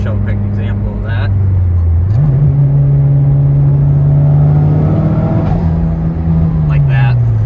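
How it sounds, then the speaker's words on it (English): A track car engine fitted with an upgraded turbo runs loud and close, a steady drone that rises in pitch as the turbo builds, then settles and slowly falls away, with someone talking over it. "it does have the upgraded turbo, which makes more power, but it takes longer to spool up"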